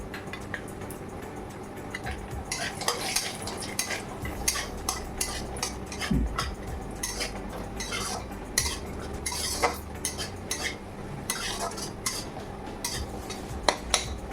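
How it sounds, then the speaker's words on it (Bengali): Cashew nuts fry in a pan with browned onions, a low continuous sizzle under repeated clinks and scrapes of a spatula stirring against the metal, close up. "কাজু বাদামটা আজকে আমি ভেজে নেব।"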